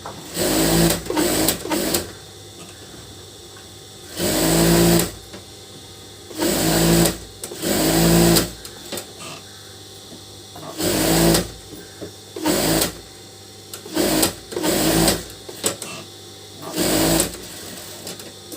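An electric sewing machine stitches chudidar fabric in repeated loud whirring runs of a second or two, separated by short pauses, close and alone without talk.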